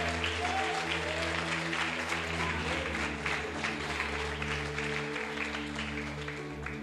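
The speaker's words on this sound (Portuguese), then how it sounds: "Pode aplaudir o Senhor." A church congregation applauds during a Bible study service, steady, dense clapping over a low sustained hum, moderately loud and continuous throughout.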